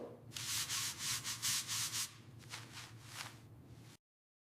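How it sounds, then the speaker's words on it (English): Shower tiles are scrubbed by hand with a brush, giving a run of fast rasping back-and-forth strokes, loud at first and then lighter, with no talking. "I scrub the tiles in the shower."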